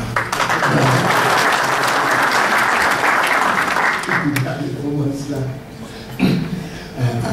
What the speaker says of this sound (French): on aurait pu l'applaudir quand même